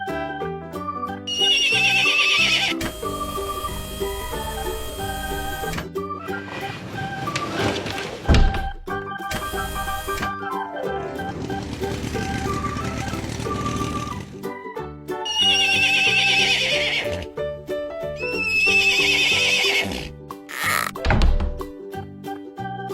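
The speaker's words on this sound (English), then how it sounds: "Horse." Cartoon horse from a children's farm animal animation, several bright whinnying neighs alternating with hollow clip-clop hoof knocks, loud and close over a steady music bed.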